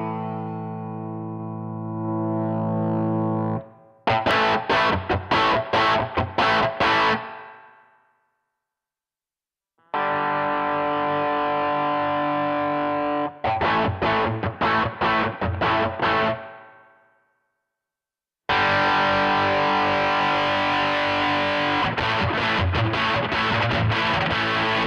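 Electric guitar run through distortion effects on a Line 6 Pod Express pocket pedalboard: loud, heavily driven sustained chords alternate with fast chugging riffs, separated by short silences, no talking.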